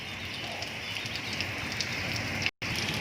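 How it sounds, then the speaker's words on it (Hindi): Heavy rain pours steadily over a village in stormy wind, a dense continuous hiss with scattered drop patter, loud and close, broken by one brief dropout near the end. "हमारे इलाके में कितना ज़बरदस्त बारिश है"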